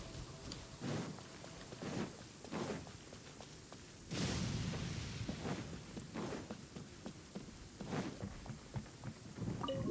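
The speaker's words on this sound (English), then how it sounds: "When did it start to rain?" Steady rain falls throughout a rainy scene in the Genshin Impact video game, a continuous hiss with pattering drops and occasional louder gusts or rumbles, no voices present.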